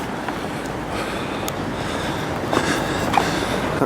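Ambience inside Dewsbury train station, with a continuous low rumble of a train and platform noise, a few sharp clanks and a louder burst of rail movement toward the end, and no talk.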